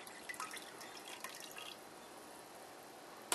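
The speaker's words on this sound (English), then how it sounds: "I'm going to pour it right into the milk." Lipase enzyme mixed with water is poured from a bowl into milk for homemade feta cheese, giving soft, faint liquid trickles and drips through the first half, then near-quiet with a small clink at the end.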